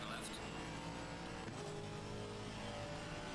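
Race car engines in the Assetto Corsa Competizione racing game drone steadily and loudly throughout, with layered engine tones shifting as cars run close together.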